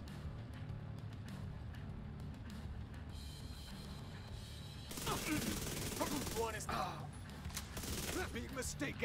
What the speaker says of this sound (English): Yeah, the RPM's crazy on this gun.